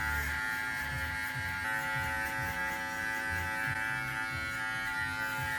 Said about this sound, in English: I'm going to use my trimmers to go over that zero line to get it down even shorter